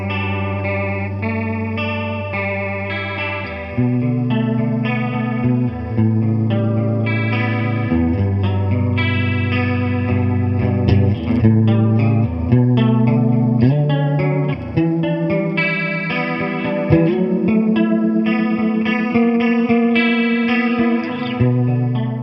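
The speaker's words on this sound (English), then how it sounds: "I associate it with the Electro-Harmonic small clone pedal" Electric guitar through an Electro-Harmonix Small Clone chorus pedal, with a lush, shimmering chorus effect and light drive, playing continuous chords and melodic lines at steady volume.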